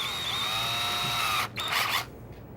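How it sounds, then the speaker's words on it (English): A power drill runs steadily as it bores a pilot hole in wood during joinery, a close whining hum that cuts out briefly around the middle, surges again, then drops away to quiet. "I'm going to change out my drill bit to my pilot hole size"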